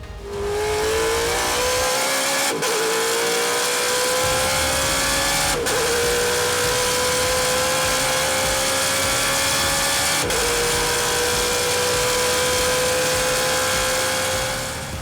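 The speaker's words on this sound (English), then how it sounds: "So our rate of acceleration of a TA car is pretty outstanding." A Trans Am TA race car accelerates hard on the track at Mid-Ohio, its engine loud and close, climbing in pitch through three quick upshifts over a sustained full-throttle roar.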